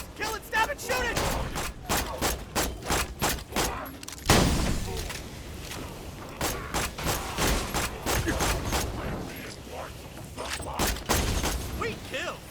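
Gunfire from the video game Borderlands 2 crackles in steady, rapid repeated shots throughout, with a heavier boom partway in and faint game sounds underneath.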